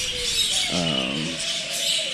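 Wild parrots in California give loud, harsh calls, a burst of squawks rising over steady outdoor background noise, close and prominent for a moment.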